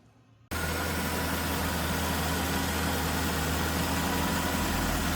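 A 998 Mini Cooper engine with twin SU carburettors and a newly fitted exhaust catches after a brief crank and settles into a steady, loud, close idle with an even low drone.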